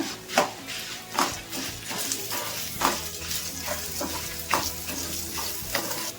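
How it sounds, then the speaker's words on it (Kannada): Five or six Byadagi dried red chilies and a handful of curry leaves frying in hot oil in a pan, a continuous sizzle broken by regular scraping stirs about once a second, close and fairly loud. "ಮೆಣಸಿನ್ಕಾಯಿ ಸ್ವಲ್ಪ ಕ್ರಿಸ್ಪಿ ಆಗಬೇಕು, ಅಲ್ಲಿ ತನಕ ಬಿಸಿ ಮಾಡ್ಕೋಬೇಕು."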